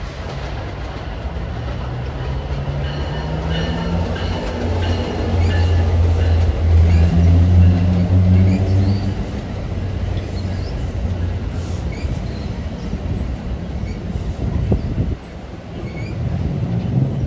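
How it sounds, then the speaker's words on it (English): A local commuter train passes on track B of the Northeast Corridor at Linden, New Jersey, a steady loud rumble with rhythmic wheel clatter over the rails, building and holding for many seconds before easing off. "Comes a local on track B."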